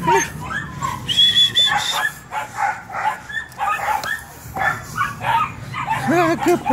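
A young Belgian Malinois puppy barks and yips in short, high, excited bursts mixed with whimpers, close by, while a person repeatedly calls to it.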